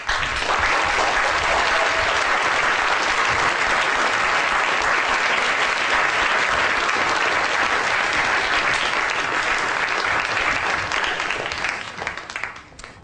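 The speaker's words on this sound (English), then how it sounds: "give a big round of applause for everyone" A lecture audience at the Royal Institution gives loud, dense, sustained applause for about twelve seconds before it thins out at the end.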